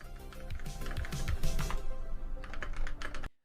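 Rapid typing on what sounds like a stock computer keyboard, dense uneven key clatter running steadily throughout, fairly close and loud over a low background hum.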